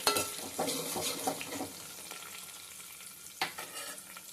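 Curry leaves and onions frying in a pan, a steady close sizzle with soft stirring scrapes near the start and a brief louder clatter later, no talking.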